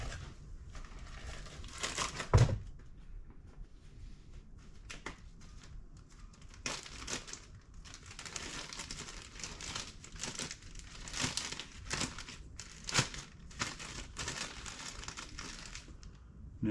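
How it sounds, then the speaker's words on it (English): A plastic bag crinkling and rustling close by in a workshop during a 25 hp Volkswagen motor teardown, with irregular bursts of crumpling and one sharp louder crackle, no talking. "plastic bag for that"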